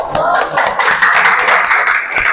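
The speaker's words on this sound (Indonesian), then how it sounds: "Kita kasih aplaus dulu untuk kelompok 3." A small class applauds a student group after its presentation, scattered hand claps at a quick irregular rhythm, close and fairly loud, with faint voices underneath.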